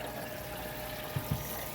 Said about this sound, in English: all of this water that's going through this utility sink is going into a 5-gallon bucket